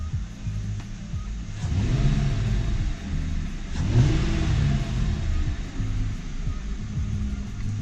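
A Mercury Grand Marquis engine revs up twice in low, rumbling bursts, settling back to a steady idle between them, with a mild, unmodified stock exhaust tone.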